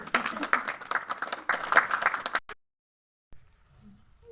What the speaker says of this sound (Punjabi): ਤਾੜੀ ਮਾਰੋ ਹੁਣ